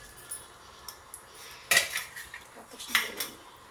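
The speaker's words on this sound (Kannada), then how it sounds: "ಇದಕ್ಕೆ ಒಂದು ಸ್ಪೂನಷ್ಟು ತುಪ್ಪ ಆ್ಯಡ್ ಮಾಡ್ತೀನಿ." A metal spoon clinks against a pressure cooker pot while ghee is added for cooking, several sharp separate taps and scrapes, the loudest two near the middle and end, in a quiet kitchen.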